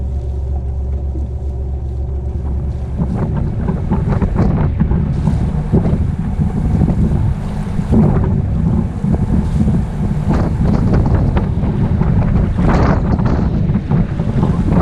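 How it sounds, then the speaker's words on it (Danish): Strong wind roars continuously over a boat heading south toward the Øresund Bridge from Malmö in autumn rain and gale, buffeting the microphone with a loud, steady rush and water noise beneath. "det blæser"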